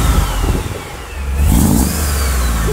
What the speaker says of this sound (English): it's got this nice deep throaty LS sound